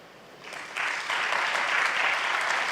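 Applause from an audience at a spiritual storytelling discourse swells after a quiet start and grows into steady, dense clapping that continues to the end.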